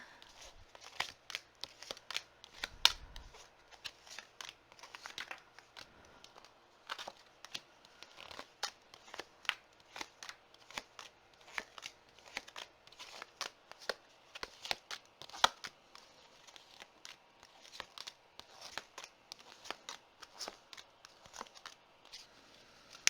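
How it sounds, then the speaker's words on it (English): Tarot cards being shuffled and laid down on a table: a long run of quiet, crisp flicks, riffles and soft taps in an irregular rhythm, with no talking. "scroll past all the shuffling and putting down of cards"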